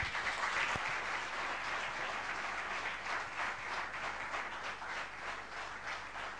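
An audience applauds after a talk, with dense, sustained clapping from many hands running steadily throughout and no voices over it.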